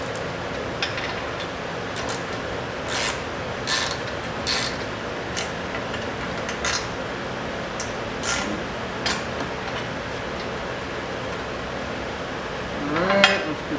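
A ratchet fitted with a 3/4 inch socket turns bolts while a LOD Signature Series stubby front bumper is installed. It gives irregular light metallic clicks over a quiet, steady background, ending with a brief clatter.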